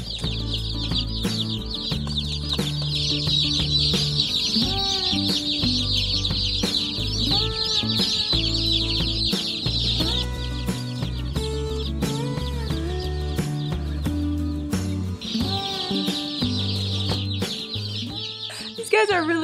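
Baby chicks, meat birds just collected from the post office, peep loudly and continuously in a box, a dense shrill chorus of many overlapping chirps running throughout.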